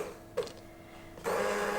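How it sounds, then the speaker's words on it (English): An immersion blender whirs into a hot carrot, coriander and potato soup, a steady mid-pitched motor drone that starts, briefly cuts out and then resumes at full strength, close by with no talking. "using your immersion blender, blend it up a little bit"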